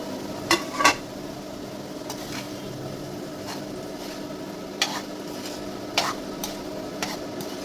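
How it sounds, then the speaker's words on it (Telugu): Rice stirred into mint masala in a pan over low heat, a soft steady sizzle with occasional sharp scrapes and clinks of a spoon against the pan, close and moderately quiet. "సో మనం సిమ్లో పెట్టి ఈ రైస్ని ఇందులో కలిపేద్దామండి."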